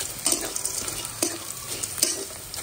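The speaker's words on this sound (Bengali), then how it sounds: "পেঁয়াজ লাল করে বড়ি দিয়ে দিচ্ছি" Onions fry with raw bori, the lentil dumplings, in a pan, giving a steady close sizzle broken by a few sharper scrapes as the mixture is stirred.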